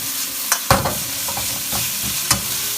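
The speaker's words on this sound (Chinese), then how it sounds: "不停的翻炒" Shredded green peppers stir-fry in hot oil with fermented black beans over medium-high heat for a pork dish, giving a constant sizzle broken by sharp spatula scrapes and tossing strokes against the wok.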